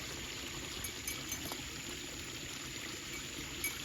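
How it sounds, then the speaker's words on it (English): Running water from a small waterfall at a swimming spot makes a steady, soft rushing and trickling wash, faint and continuous with no talk. "Listen to the sound of the running water."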